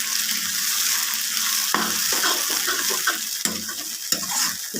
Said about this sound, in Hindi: तेल गरम हो चुका है, इसमें डालेंगे हम जीरा।